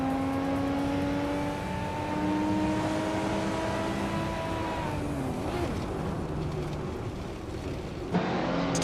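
Race car engines in a racing video game, including a 1988 Porsche 944 Turbo S, rev and accelerate off the start line, a steady droning roar with rising pitch sweeps that shifts as cars pull away, without any talk.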